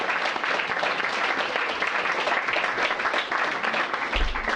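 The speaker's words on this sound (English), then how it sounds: "I want to give you all a round of applause" Steady, dense applause from a sizable crowd, many hands clapping at once with no pauses throughout.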